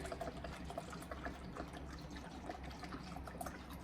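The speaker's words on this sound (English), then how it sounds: "refill the detergent reservoir with detergent. So decant some chemical" Liquid detergent pours steadily from a decanting container into the detergent reservoir of a Mocom Tethys H10 washer-disinfector, a continuous close trickle and splash with small drips, no voices.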